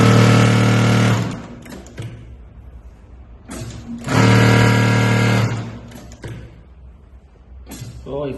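A Mauser Spezial 2645 heavy duty leather sewing machine stitches thin fabric in loud, fast whirring bursts: two long runs about a second each, separated by short stops and brief stuttering starts, with quiet gaps between.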